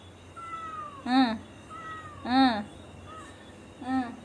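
A cat meows three times at a steady pace, close by, with a person speaking softly in between the meows.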